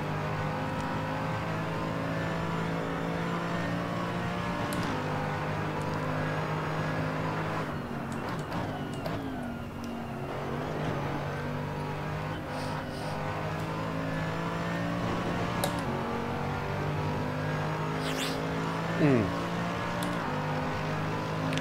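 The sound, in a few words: eight-cylinder race car engine revving in Assetto Corsa video game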